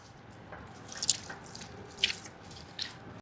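Saffron milk is drizzled over rice for kacchi biryani, giving three soft, close drips and splashes spaced about a second apart over a quiet hiss.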